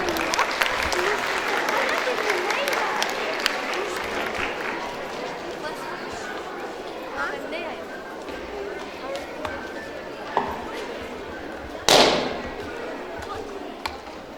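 An audience at Al-Hamd Islamic University applauds to welcome its president, Prof. Dr. Shakeel Ahmed Roshan. The dense, sustained clapping is strongest at the start, then thins out, with a sharp knock near the end.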